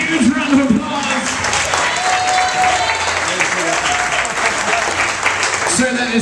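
An audience applauds a runner-up contestant at the close of a contest, with steady, fairly loud clapping and cheering throughout, and voices carrying over the crowd noise.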